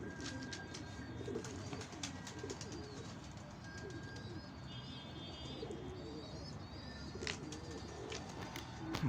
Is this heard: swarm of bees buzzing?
no